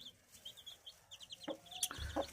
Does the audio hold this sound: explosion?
no